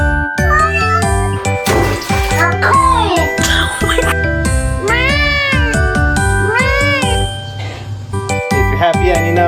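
Cats meow repeatedly in loud, close, drawn-out calls, layered over a bright sung children's tune with chiming, jingling accompaniment and occasional voices.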